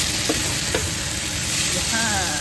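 Vegetables with quartered artichoke hearts and tomatoes frying in a pan, a loud dense close sizzle with a couple of brief stirring knocks.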